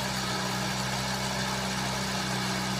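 A Ford Laser car engine runs steadily during carburetor tuning, giving a loud, constant close-up hum and rumble with no pauses and no talking.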